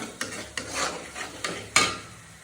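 Spice paste frying and being stirred in a pan for chicken curry: a soft sizzle under a few sharp scraping strokes of a spoon against the pan, faint and close, with no talk.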